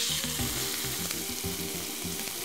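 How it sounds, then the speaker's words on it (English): Steak sizzling in a very hot pan, a loud continuous crackling hiss heard close up with no voices over it. "and you want to hear that sizzle"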